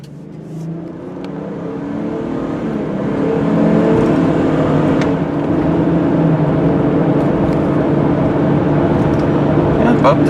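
A black 2003 Mercury Mountaineer AWD accelerates steadily to highway speed, its engine drone building through the first few seconds and then holding loud and even, with road and wind noise layered over it.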